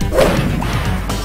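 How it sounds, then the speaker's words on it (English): Computer-controlled smashing in the video game Trash It, a loud close crash with a swishing whoosh and heavy thwacks that quickly settle into a lower rumble. "Smashing a green thing."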